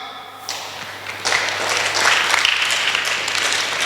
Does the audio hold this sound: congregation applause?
yes